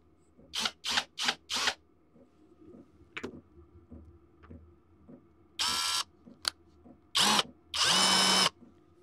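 A power drill works on a screw in short bursts: four quick runs, then a pause with small clicks and taps, then longer whirring bursts, close and fairly loud against a quiet room.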